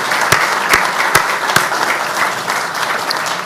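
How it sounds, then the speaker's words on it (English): An audience at a rights and justice conference event applauds the judge and panel, dense steady clapping from a crowd throughout, with a few sharper individual claps standing out near the start. "how about another round of applause for both the judge and our panel"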